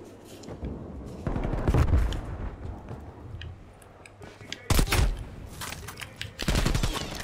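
Rapid automatic gunfire in Call of Duty Black Ops Cold War, with several sharp bursts of shots spread across the clip and quieter game sound between them.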